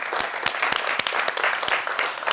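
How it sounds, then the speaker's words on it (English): A live studio audience gives a full round of applause, a loud continuous patter of many hands with some distinct sharp claps punctuating it, steady throughout and close. "You deserve a nice round of applause."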